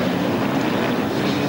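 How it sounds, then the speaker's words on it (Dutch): Enduro motorcycle engines roar together at the start of a 1997 cross-country race in Schefflenz, Germany, forming a loud, steady, dense blare with no pauses. "De een die heeft nu een keer de motor sneller tot leven gewekt dan de ander."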